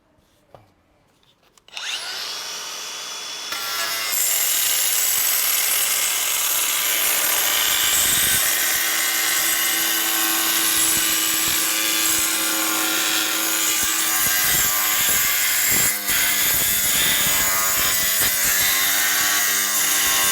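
A power tool starts up and cuts pool floor tile, a loud steady high grinding whine that holds for many seconds with small wavers as the blade bites, close by and without talk.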